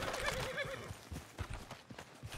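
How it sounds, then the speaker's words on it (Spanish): Horse galloping with a neigh in Red Dead Redemption 2: a whinny rings out early, followed by irregular hoofbeat thuds at moderate distance, fairly quiet overall. "¡Caballo!"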